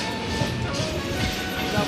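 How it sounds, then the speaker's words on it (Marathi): A train rolls along the tracks after leaving Sangameshwar station in Konkan, with a steady rumble and faint rhythmic clatter of wheels, heard from inside a carriage at moderate level. "फायनली आपली ट्रेन संगमेश्वरून सुटलेली आहे"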